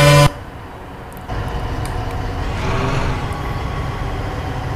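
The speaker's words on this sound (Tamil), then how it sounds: "பாருங்கள் ஹார்ன் பாருங்கள், வேறு லெவலில் இருக்குல்ல." Loud bus horn blasts from a Tamil Nadu private bus in Euro Truck Simulator 2, a short honk followed by a long sustained tone with shifting pitch, heard alone without talk.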